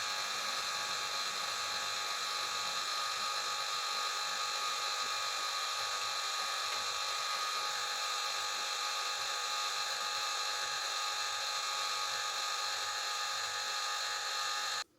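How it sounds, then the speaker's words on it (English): A power drill bores a hole through a self-defence walking stick to take a bolt, giving a steady, loud, high-pitched whine that runs unbroken for about fifteen seconds and then stops abruptly. "So I'll just drill the hole through."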